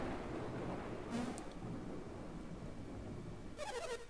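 Steady rain and rumbling thunder fill an outdoor scene in the video game Golden Sun, a constant wash of noise with brief bright bursts near the start and end.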